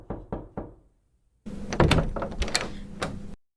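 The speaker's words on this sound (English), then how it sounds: "A woman opens the door, Sophia" Three sharp knocks on a door, then a short silence, then a door opening with clattering, thumping handle and latch sounds for about two seconds before it cuts off abruptly. Close and fairly loud, with no talking.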